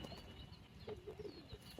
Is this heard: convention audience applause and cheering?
no